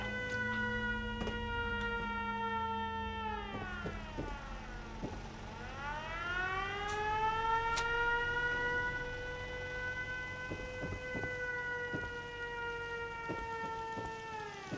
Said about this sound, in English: Turn off the siren.